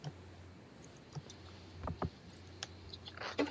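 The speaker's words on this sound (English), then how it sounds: "Oh, you guys typing?" Faint, sparse key clicks from a computer keyboard during an online gaming match, a few quick taps in small clusters against a quiet room hum, with no talking.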